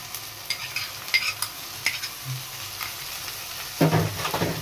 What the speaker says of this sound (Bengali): টমেটো পিউরি মিশিয়ে এটা আবার একটু ভালো করে নাড়িয়ে ফ্রাই হতে দেবো।